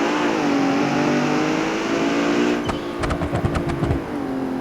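Mercedes-Benz GT63 4-door sedan in BeamNG.drive, engine droning steadily as it accelerates, then a burst of rapid revving and gear shifts near the end, loud and close with no talking.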